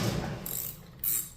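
A hand ratchet working a spark plug out of a weed eater, giving two quick bursts of fine clicking close by, separated by a short pause, with no talk.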